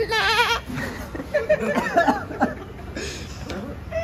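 A baby goat bleats in short, quavering calls, strongest at the start and repeated faintly later, mixed with people chuckling and laughing nearby at an outdoor picnic.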